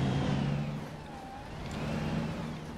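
A bus in the OMSI bus simulator game drives and turns left through a town, with a steady droning engine hum and faint tonal whine, continuous and close throughout.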